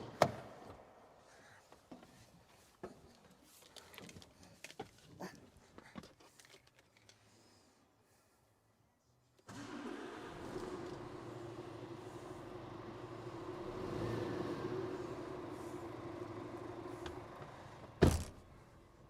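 A 2019 Scania R 450 New Gen truck, heard from the quiet cab: scattered clicks and knocks, then the engine fires midway and settles into a steady, low, muffled idle, ending with one sharp thump.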